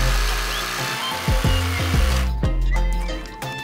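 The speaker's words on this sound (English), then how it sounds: "With the jigsaw up the nose, and then pop in the skill saw" A jigsaw and a skill saw cut through a foam surfboard blank, giving a steady buzzing drone with several sharp surges and pitch sweeps as the blades bite, loud and close throughout.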